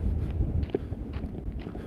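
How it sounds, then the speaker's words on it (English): Low wind rumble against the microphone, with a few soft thumps like footsteps near the start. "It's a little bit windy here, so I'm hoping you can hear me okay."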